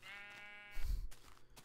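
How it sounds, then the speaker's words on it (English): Sheep bleat in a video game in one short, faint, wavering call that trails into a low rustle, with no talk over it. "I'm glad they put in sheep."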